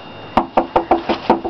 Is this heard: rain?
no